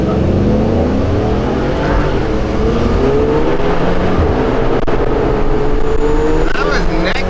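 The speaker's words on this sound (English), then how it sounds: "We got ourselves a little drag race opportunity." Two Ford Raptor pickup trucks drag racing down a street, engines revving loud and steady throughout, with voices faintly underneath.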